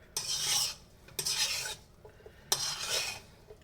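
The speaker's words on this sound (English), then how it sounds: "now that the ingredients have been mixed up well" Chole ingredients being stirred and mixed in a pot, three close bursts of bright scraping with short pauses between them, fairly loud, no voices.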